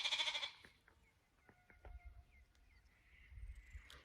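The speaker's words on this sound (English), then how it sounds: "We have 5 Aussie white sheep. You can see here in the background." Aussie White sheep on a farm bleat a few times, thin cries scattered over a quiet outdoor background, with a low rumble in places.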